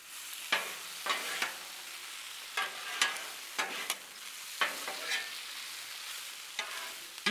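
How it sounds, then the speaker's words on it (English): Steak, peppers, onions and mushrooms tossed on a Blackstone griddle, with a steady sizzle and a series of sharp metal spatula scrapes and taps across the flat top, each stroke close and distinct. "I'm gonna go ahead and mix it all together, add some cheese into this mixture"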